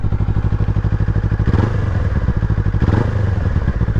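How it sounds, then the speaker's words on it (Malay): A Honda motorcycle with a standard stock exhaust idles and revs, a steady pulsing thump with two brief throttle blips, close and loud with no talk. "Ni kita exhaust standard. Kita dengar bunyi dia macam mana."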